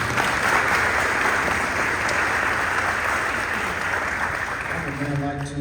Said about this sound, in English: One more round of applause for General Bickle.